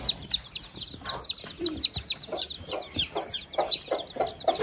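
A hen clucks and cackles loudly and repeatedly close by while laying eggs, sharp rhythmic calls rising in intensity, with a little background chatter.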